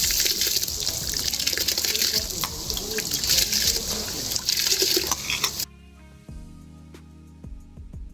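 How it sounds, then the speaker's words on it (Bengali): Soaked rice poured into a pot of hot water for biryani gives a loud rushing, gushing splash for several seconds, then stops abruptly, leaving faint clinks and quiet kitchen sounds. "জলটা গরম হয়ে গেছে, দিয়ে দিচ্ছি চালগুলো।"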